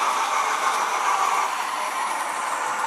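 Hornby model trains, including a new class 47, run on an indoor layout track with a steady, continuous whirring rumble that holds at an even level throughout, close by and alone.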